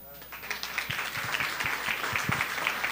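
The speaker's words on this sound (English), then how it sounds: "And a round of applause for the other parents who are watching on TV." Applause from a dinner audience at a cooking competition event, a steady bed of clapping under voices talking over it, sustained at moderate loudness.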